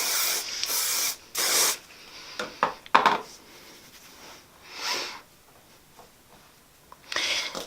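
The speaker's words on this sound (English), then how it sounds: "And then I just take my hairspray, give it one last spray." Several short bursts of hairspray hiss close by, separated by pauses and faint handling noises.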